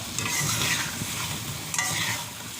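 Fish frying in hot oil for fish and chips, a loud, close, continuous crackling sizzle with a couple of brief sharper bursts as the pieces are moved about.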